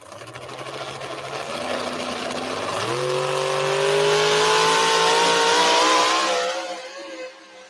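A racing truck on a dirt track at Rock Valley, Iowa, its engine droning loudly and then climbing steadily in pitch as it accelerates, holding a high whine before fading away at the end.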